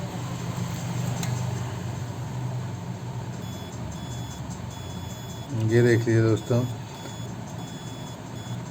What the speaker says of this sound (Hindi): अगर आपको आवाज़ आ रही है तो दोनों साइड बीप दे रहा है